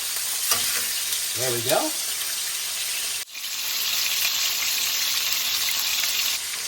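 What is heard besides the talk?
pork chops frying and sizzling in a pan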